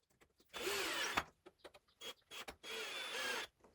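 A screw being driven back in to refasten the stop on a cross-cut saw fence cradle, heard as two sustained whirring bursts of a power driver separated by short clicks and taps, close and alone.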